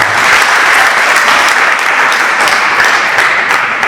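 A church congregation bursts into loud, dense applause, many hands clapping close and steady without pause, with no speech on top.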